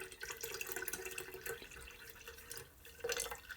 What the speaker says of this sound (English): I just strain it off with a smaller strainer